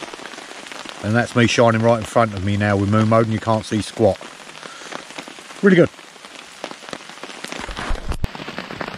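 Heavy rain hammers steadily on a tent during UK wild camping in bad weather, a dense continuous patter heard under someone talking close by.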